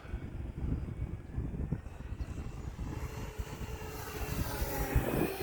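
An E-flite T-28 1.2m RC model airplane drones overhead between rain storms, its electric motor whine rising and falling in pitch as it passes at moderate distance, with steady wind and background noise.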